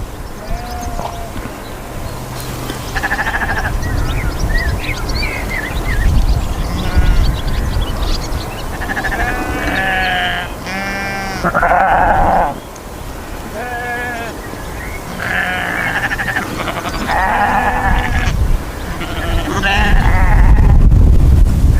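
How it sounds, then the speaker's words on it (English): Local sheep bleat repeatedly at mid distance in an outdoor setting, their calls coming in short bursts over steady wind or engine rumble and background noise. "the local sheep going for the dinner"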